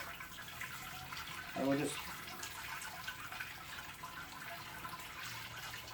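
Brewing liquid drains through the screen of a Brewzilla (Robobrew) electric brewing system in a soft, steady trickle, with a brief voice partway through.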